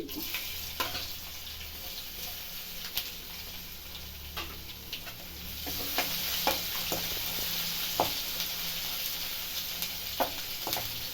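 Tamarind gojju fries in a pan with a soft, steady sizzle, broken by scattered light ticks and clicks from stirring, fairly quiet and close.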